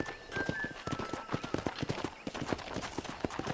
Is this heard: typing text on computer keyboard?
no